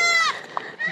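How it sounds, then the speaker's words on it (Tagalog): A newborn goat at the beach: a near, wavering bleat, then a short gap with a small knock, and a second bleat starting at the end. "At nakita namin yung kapapanganak lang na kambing."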